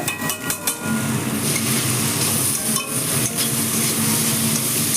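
Grated ginger stirred in a pan over a low flame sizzles steadily, with a few sharp clinks of the utensil against the pan at the start.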